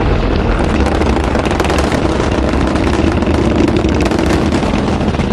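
Space Shuttle Atlantis main engines roar during the STS-43 launch ascent as they throttle back to 81%, a loud, dense, unbroken rumble that holds steady throughout.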